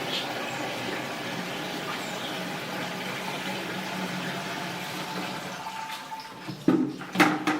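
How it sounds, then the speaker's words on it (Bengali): Water being poured into a spray machine on a dairy farm: a steady trickling, filling rush of liquid for several seconds, ending with a few knocks and splashes. "সাত থেকে আট লিটার বা দশ লিটার পানি দিই"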